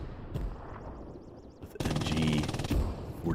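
MG 42 machine gun in Hell Let Loose, firing in rapid sustained bursts that come in loud and dense after a quieter lead-in, with a short pause and then more firing.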